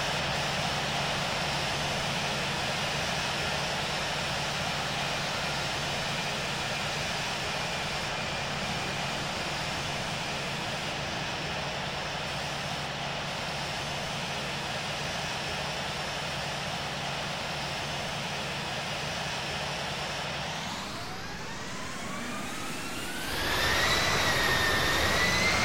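Airliner jet engines in the Infinite Flight Simulator game drone steadily during taxi, a constant loud whine and rumble that shifts and rises in pitch near the end as thrust changes, with no voices.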